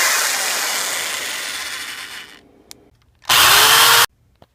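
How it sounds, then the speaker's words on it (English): A power drill boring holes for starter relay bolts on a CUCV doghead starter relay mod, a long steady high-pitched whir that winds down, then after a short pause a second brief, loud burst of drilling close by. "I need to widen that one and drill that one out."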